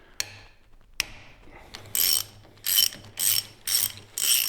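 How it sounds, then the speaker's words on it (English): A ratchet wrench loosening the top pinch bolt on a Harley Sportster triple clamp: two sharp initial clicks, then five close, rhythmic bursts of rapid ratcheting clicks with short gaps between. "we're gonna loosen up this pinch bolt here at the top."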